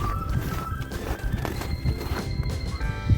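Horses outdoors on a very windy day give several whinnies and neighs, with hoof clops and rustling mixed in under gusting wind noise. The sounds are moderately close, and no one speaks.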